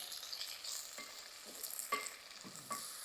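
Chopped onion frying in a pan with cumin seeds for chickpea pulao, giving a steady soft sizzle broken by a few scraping stirs of a spoon, close and fairly quiet with no voices.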